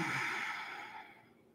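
A single long, smooth exhale through the nose during a yoga breathing exercise, soft and airy, close to the microphone and fading gradually toward silence, with no talking.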